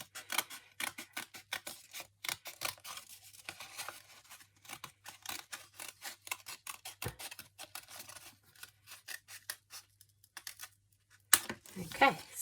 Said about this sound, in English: you just want to cut along the line that you've drawn